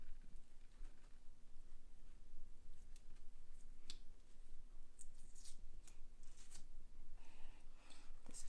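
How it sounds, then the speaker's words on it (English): Fingernails scrape and pick at leftover washi tape stuck to a wall, a steady run of faint close crackles, scratches and small ticks with brief sharper peels. "Looks like I'm gonna try to use my fingernails to get the remaining tape off"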